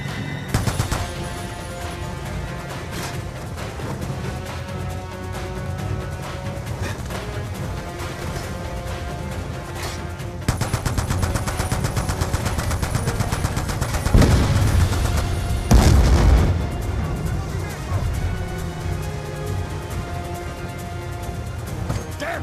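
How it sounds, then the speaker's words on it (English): Mounted machine guns rattling in a Black Ops II firefight on a barge under attack by gunboats, with dense sustained bursts, heavy booms and crashes layered over a thick music bed. "They're mounted MGs on each side of the barge!"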